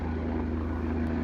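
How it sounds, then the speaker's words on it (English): A helicopter lifting off, its engine and rotors giving a loud, steady, close droning roar that holds throughout. "the helicopter's just about to give us a display as it takes off."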